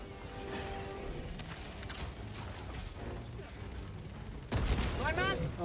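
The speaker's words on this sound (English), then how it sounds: "Machine gun turret shot me." Automatic fire from a machine gun turret in Helldivers 2 crackles in a dense, continuous burst, then grows louder and harsher near the end, with a voice talking over the shooting.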